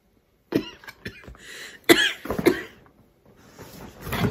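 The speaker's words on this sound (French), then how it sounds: "de la mini poudre qui m'est rentrée dans le nez. Ça m'a fait tousser." A woman coughs repeatedly after inhaling fine powder, several close, sharp coughs with short pauses, ending in softer breathy sounds.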